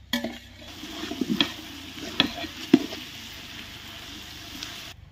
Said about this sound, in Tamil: வெங்காயம் நல்லா பொன்னிறமா வதங்கிடுச்சு.